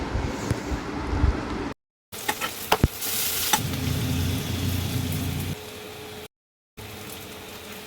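Onions and coriander, chili and turmeric powders fry in coconut oil for a curry, a steady close sizzle with a few sharp clicks of stirring, broken by two brief silent gaps.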